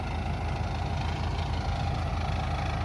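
A YTO 1104 tractor engine idles steadily nearby during rapeseed sowing, a low throbbing rumble that holds constant throughout.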